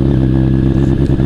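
Kawasaki Z900 motorcycle fitted with an Arrow exhaust runs loud and close, its engine giving a deep, steady throb with a slight rasp throughout the short burst.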